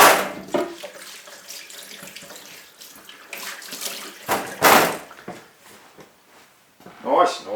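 Tap water runs in bursts while a chopping board is rinsed during cooking, with the flow starting and stopping and a few knocks of the board against the sink.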